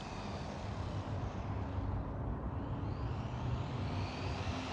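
A Rlaarlo 1/14 RC buggy running at full throttle, a steady high-pitched electric whine held at constant loudness with no talking.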